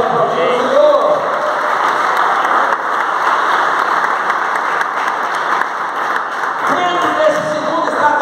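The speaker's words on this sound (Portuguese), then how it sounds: "Pode aplaudir o Senhor." A church congregation applauds in a steady wave of clapping mixed with scattered cheers and voices, loud and continuous across the room.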